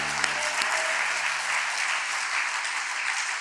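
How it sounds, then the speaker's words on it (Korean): An audience at a special overnight devotional church gathering bursts into sustained applause, dense steady clapping from many hands filling the room, with a faint voice briefly underneath at the start. "참으로 놀라운 일인데 박수 한번 보내주시면 좋겠습니다."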